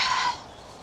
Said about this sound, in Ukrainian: Пташечка співає.